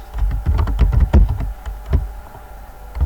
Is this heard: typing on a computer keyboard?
yes